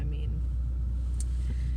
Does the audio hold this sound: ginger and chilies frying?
no